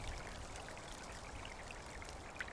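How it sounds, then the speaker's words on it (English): Unfrozen lake water trickles like a small stream in a snowy winter setting, a soft, steady, continuous babble with no pauses and no voices. "the unfrozen flow of the lake trickles like a small stream"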